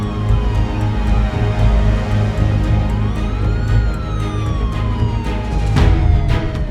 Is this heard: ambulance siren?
yes